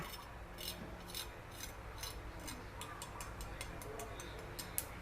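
Puffed, crispy pork crackling is handled up close, producing a rapid series of light, crisp crackles and crunches over a soft background hiss, with no one talking.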